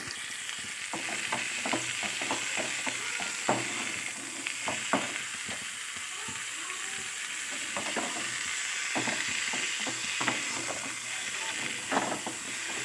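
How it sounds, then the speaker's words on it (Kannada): Masala with salt and chili powder sizzles steadily in a pan, a continuous frying hiss broken by frequent clinks and scrapes of stirring, close and fairly loud, with no talking. "ಇದನ್ನು ಸ್ವಲ್ಪ ಫ್ರೈ ಮಾಡ್ಕೊಳ್ತೀನಿ ಅಷ್ಟೇ"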